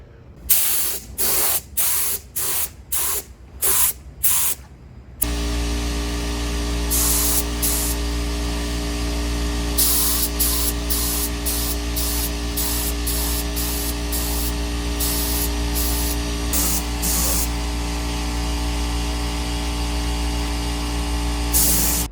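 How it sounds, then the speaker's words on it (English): A spray gun hisses primer onto a rusty car body in short bursts at first, then runs in long continuous sprays over a steady mechanical hum, close and loud. "So we'll just mix up some primer and spray this"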